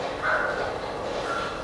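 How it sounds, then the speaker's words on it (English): A dog barks somewhere in the background during a Valentine's Day makeup tutorial, its yips faint and distant over a steady noisy backdrop, with no talk over it. "the dog is barking somewhere."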